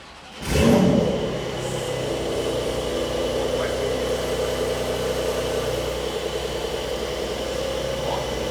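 A new car's engine fires up with a sudden loud burst, then settles into a steady, even running drone that continues unbroken to the end.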